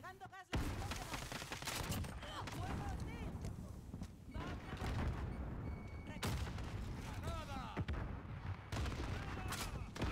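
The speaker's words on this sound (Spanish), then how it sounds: "Estos son tiros lejanos." Steady volleys of distant gunfire crackle throughout a noisy Modern Warfare game battle, with repeated pops and booms layered over constant background din.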